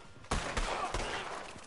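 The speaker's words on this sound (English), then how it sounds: "Holster your guns. 1, 2, 3, shoot." Revolver gunshots from a duel in the video game Red Dead Online: three sharp close reports in quick succession, with a reverberant tail that lingers between and after them.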